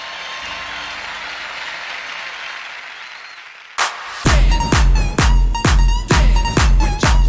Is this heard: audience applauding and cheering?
yes